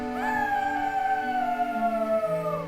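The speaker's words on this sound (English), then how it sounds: "He heard a howl and looked up." A long wavering howl from a wild critter on a riverside ridge, rising then slowly sliding downward, loud and clear with no talk over it.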